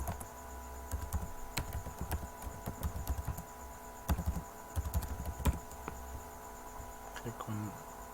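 Email and password typed on a computer keyboard, a steady run of light, close key clicks with uneven rhythm and short pauses over a low background hum.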